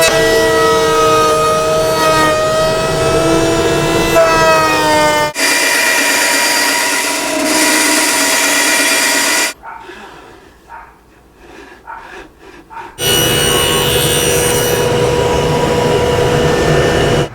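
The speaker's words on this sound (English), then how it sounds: "I'm just going to go ahead and cut that groove." A router fitted with a 1/2 inch bit cuts a groove in a wood panel for a shop cabinet. Loud, sustained high whining comes in long bursts, with a quieter pause partway through.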